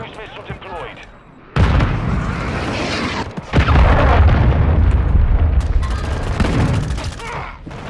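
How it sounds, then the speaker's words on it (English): Heavy explosions and booming blasts ring out in the video game Modern Warfare 2 as a cruise missile strikes. A quieter stretch gives way to two loud, sustained rumbling impacts, with a player talking over them. "Friendly cruise missile deployed."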